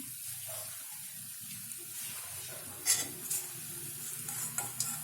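Wheat shankarpali deep frying in oil over a slow-medium flame make a quiet, continuous sizzle and hiss, with a few sharper crackling bursts and stirring sounds toward the end.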